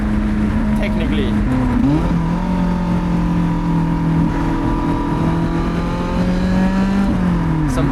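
A Lotus Elise on semi-slick tyres drives a cool winter road, its engine droning steadily up close. The pitch drops sharply once as it downshifts, holds, then climbs again near the end.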